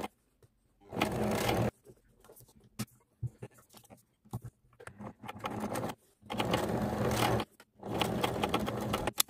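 A sewing machine stitches a fabric pencil case along chalk-marked lines, running in several loud, steady bursts separated by pauses with small handling clicks and scrapes.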